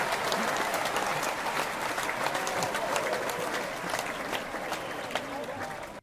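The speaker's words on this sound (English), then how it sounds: "I want us all, my international listeners, to give a great round of applause to Dr. Cecil Murray and Pastor Mark Whitlock" A live audience gives a sustained round of applause for guest pastors during a morning church broadcast, a dense, even roar of clapping that holds for several seconds before fading at the end, with some crowd voices mixed in.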